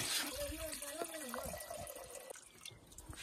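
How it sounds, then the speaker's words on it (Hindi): Water running from a tap on a water tank in the hills of Kullu-Manali, a steady close trickle and splash heard under voices talking. "ओ ये टंकी है, पर इससे पानी कैसे निकालूं मैं अब?"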